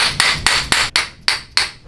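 Chiropractor's hammer adjustment tool striking a patient in a rapid series of six crisp, loud clacks at an even rhythm, close and with nothing else heard.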